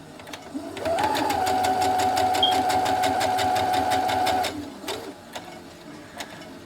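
Sewing machine with a quarter-inch foot chain-piecing quilt blocks, running in a fast, even burst of rapid needle strokes for about four seconds before stopping, close and loud with a few quieter clicks after.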